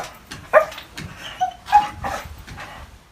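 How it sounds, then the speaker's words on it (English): A dog barks excitedly at a gecko, giving a burst of sharp, close barks and high yips in an uneven rhythm, with short pauses between outbursts. "So what I tend to do for Sprocket, who's going crazy right now because I think there's a gecko that he can see"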